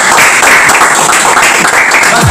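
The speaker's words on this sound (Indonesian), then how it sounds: "untuk teman-teman di sini boleh minta tepuk tangannya" A crowd of people claps together for a hypnosis stage performance, producing loud, dense, continuous applause that holds steady throughout without pause.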